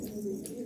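A red silvertail pigeon coos in a short, steady low call, close and fairly loud, with no talk over it.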